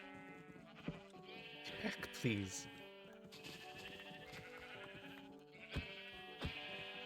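Sheep in a Minecraft pen bleat repeatedly, several wavering cries overlapping at moderate distance, while a person speaks briefly over them.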